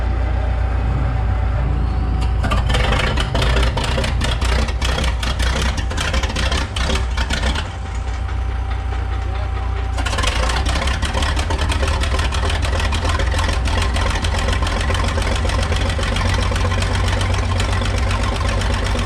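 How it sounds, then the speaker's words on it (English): A large old Minneapolis Moline HEB 605-cubic-inch six-cylinder engine idles steadily with a low, throbbing knock and mechanical clatter, loud and continuous with no talking. "The engine here is a Minneapolis Moline HEB, 605 cubic inches, 6-cylinder engine."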